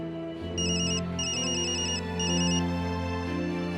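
A telephone rings with a repeating electronic ringtone in bursts, loud and close, with no voices over it.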